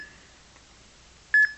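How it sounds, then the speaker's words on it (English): Two short electronic beeps from a smartphone EMF meter app, close together near the end, sharp and bright, after a quiet stretch; a faint tone sounds briefly at the start. "you'll hear this irritating beeping"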